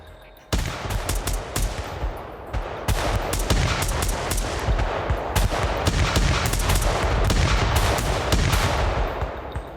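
Gunfire from a police gun battle, loud bursts of sharp shots in rapid volleys and scattered single cracks, dense and close, with no talk over it.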